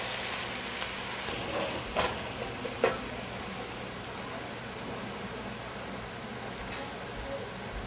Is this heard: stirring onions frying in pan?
yes